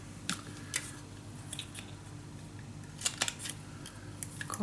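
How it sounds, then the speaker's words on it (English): A handheld corner punch snips paper corners for a Stamperia mini album, giving sharp, quiet clicks: a few spaced single snaps, then a quick cluster of crisp cuts near the end, close up in a hushed room. "Corner punch."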